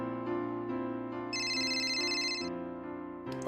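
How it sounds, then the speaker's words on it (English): A phone ringtone plays in the Mabinogi video game, a steady melodic electronic trill with a bright high tone sounding in the middle, repeating at close range over background game music with no talk. "we're getting a phone call"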